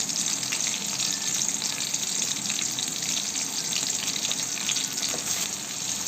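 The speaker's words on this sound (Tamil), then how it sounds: "வெங்காயம் நல்லா வதக்கி வருது" Small shallots sautéing in hot oil in a pan for a Tamil fish curry, a continuous close sizzle and crackle with faint stirring, no voices over it.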